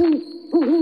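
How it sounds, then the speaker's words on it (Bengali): An owl hoots once in a short, steady tonal call that swells again near the end, close and clear against a quiet night background. "পেঁচার ডাক"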